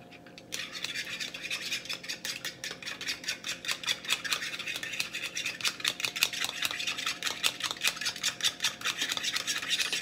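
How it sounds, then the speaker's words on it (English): Three eggs are whisked for an omelet in a bowl, a fast, rhythmic scraping and tapping that starts after a brief quiet and continues close and steady to the end. "Stir this up."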